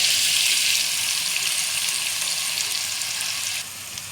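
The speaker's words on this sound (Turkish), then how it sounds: "Yağım kızdı. Şimdi soğanlarımı ekliyorum." Chopped onions dropped into hot oil in a pan for a minced-meat menemen, giving a steady, bright sizzle that holds close and loud, easing slightly toward the end.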